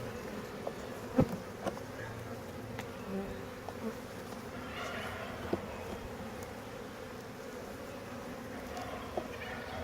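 A dense, steady hum of honey bees from package colonies buzzing close by during queen cage removal, with occasional soft clicks and knocks mixed into the drone.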